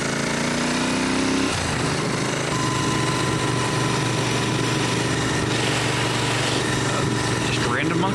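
A motorcycle engine running steadily during a springtime photography scouting ride, with a loud, continuous buzzing drone that shifts pitch early on as it changes speed, and a voice talking over it.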